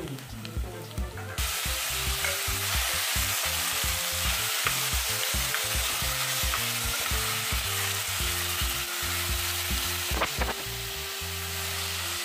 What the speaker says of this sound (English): So I will quickly fry the meat and then add the broth that I boiled it in